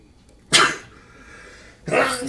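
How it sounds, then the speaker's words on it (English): A person sneezes loudly and close by, then after a quiet pause a second forceful burst follows, likely another sneeze or cough. "I got to sneeze."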